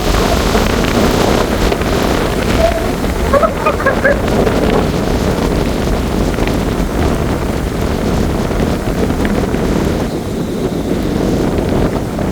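Natural wind blowing along a roadside at night, a loud, steady rushing roar buffeting the microphone without pause, with faint high tones briefly audible early on.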